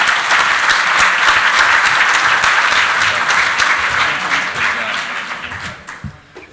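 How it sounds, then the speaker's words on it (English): An audience at a barbecue competition awards ceremony applauds loudly as a winner is introduced, the thick clapping holding strong before thinning into scattered claps near the end. "Give him a round of applause."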